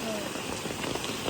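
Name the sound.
heavy rain falling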